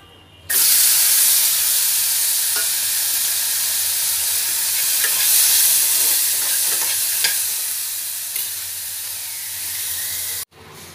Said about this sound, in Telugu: ఇప్పుడు తీసేసి కొబ్బరి వేయించుదాం.